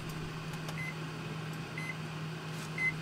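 A microwave oven hums steadily as it heats naan bread, with short, faint electronic beeps breaking through near the end of the running drone.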